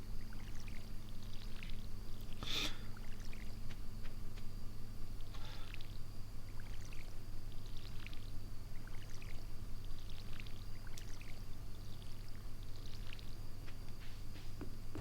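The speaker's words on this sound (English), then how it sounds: "We're just watering the plants now" Plants are watered in a farming video game with a steady, soft pouring and trickling wash that runs continuously under a low background hum, with faint clicks now and then.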